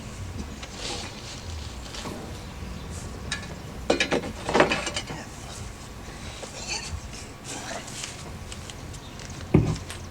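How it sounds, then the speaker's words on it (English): Outdoors during a backyard brake job, a jack lowering a 2002 Ford Explorer gives a few ratcheting mechanical clicks and a short slipping clatter midway, fairly faint over steady background noise. "the jack was slipping right there as I was lowering it"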